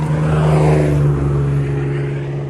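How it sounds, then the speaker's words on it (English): Several cars pass along a nearby road, a steady loud roar of tyres and engines swelling and easing slowly with a low hum underneath, and no voices. "So a bunch of cars passing by right now"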